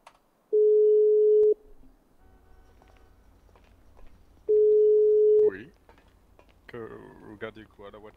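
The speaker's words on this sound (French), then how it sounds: "Attendez, je vais passer le coup de fil." Two long, steady telephone ringback tones sound in a video game as a call is placed, followed by a short burst of electronic chatter and the start of a voice answering.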